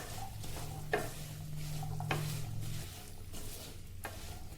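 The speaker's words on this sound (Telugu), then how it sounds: "వేసుకున్న తర్వాత బాగా మిక్స్ చేసుకోవాలండి" Sliced carrots being stirred into a hot tempering in a pan, with a steady low sizzle and a few soft scrapes of a spoon against the metal, close and continuous with no talking.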